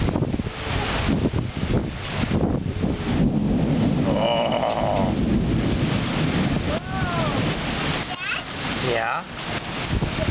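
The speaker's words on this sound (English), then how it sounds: "Yeah, that was thunder." Thunder rumbles low and heavy beneath steady wind buffeting during a summer lightning storm in Yakima, Washington, with voices talking over it.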